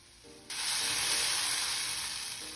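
Egg-dipped bread frying in a hot greased pan for French toast, a sudden loud sizzle that bursts in after a quiet moment and hisses steadily to the end, with no talking.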